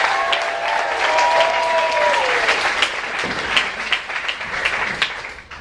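A comedy club audience bursts into loud applause and cheering that fades toward the end, with a host's voice heard over the clapping at the start.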